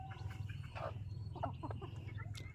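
A few chickens cluck softly in short, scattered bursts, faint and somewhat distant over a low steady background hum, with no talking.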